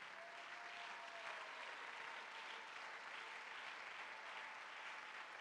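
Sustained audience applause at a church conference in Gabon, a dense, steady clapping crowd acclaiming the Lord, even and unbroken throughout.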